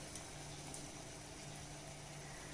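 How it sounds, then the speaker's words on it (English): Water boiling in a pot: a steady, continuous bubbling hiss with no pauses and no voices. "that water is boiling"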